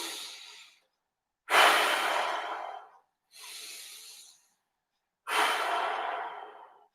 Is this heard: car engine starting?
no